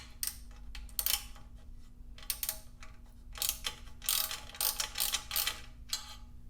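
Ratchet wrench tightening the exhaust flange bolts on a Harley-Davidson Dyna S while fitting a Bassani Road Rage exhaust, heard as bursts of quick ratcheting clicks separated by short pauses, close by with a steady low hum beneath.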